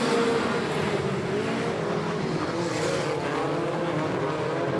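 Stock cars roar away at the start of a race on an oval, a continuous loud engine drone from a pack of cars at middle distance, steady throughout with no talking.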